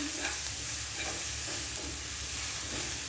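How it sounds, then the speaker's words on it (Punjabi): Spices, red chilli among them, are stirred into tomato onion chutney in a pan, giving a steady close sizzle and frying hiss with soft scraping throughout and no talk. "ਸਾਰੀਆਂ ਚੀਜ਼ਾਂ ਨੂੰ ਇੱਥੇ ਆਪਾਂ ਚੰਗੀ ਤਰ੍ਹਾਂ ਮਿਕਸ ਕਰ ਦਾਂਗੇ"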